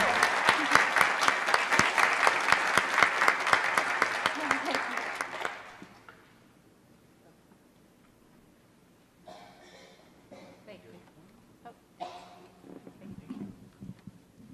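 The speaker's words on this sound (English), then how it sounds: "So let's please give her a round of applause." Loud applause from a city council meeting audience honoring an employee, dense clapping for about six seconds, then it fades out and leaves a quiet room with a few faint sounds.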